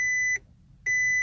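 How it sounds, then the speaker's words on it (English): A high electronic beep sounds twice, each tone held about a third of a second with a short gap between, clear and nearby. "Sorry about that beeping"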